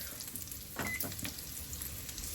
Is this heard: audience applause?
no